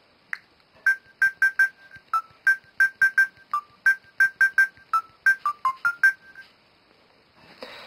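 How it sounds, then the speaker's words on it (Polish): Telephone keypad tones are played as a melody: a quick, rhythmic run of about twenty clean electronic beeps at shifting pitches, loud and close, with no talking. "To więc była ballada klawiatury telefonicznej."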